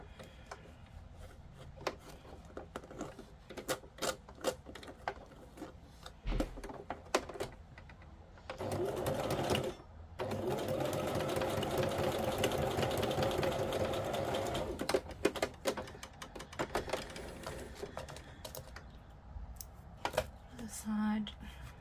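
A home sewing machine stitches a zigzag to reattach a fabric path, with scattered clicks and handling noises around two sustained, close bursts of motor hum and rapid needle chatter near the middle.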